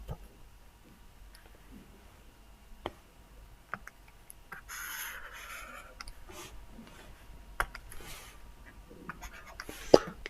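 Pen scratching on paper while a maths formula is written out, a quiet, intermittent writing sound with soft clicks and ticks and a brief busier stretch in the middle.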